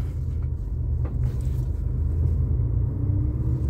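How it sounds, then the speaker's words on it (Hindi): Car pulling away in first gear on a single-lane highway, a steady low engine and road rumble close by, even in level throughout. "आगे बढ़ा ली हमने अपनी गाड़ी"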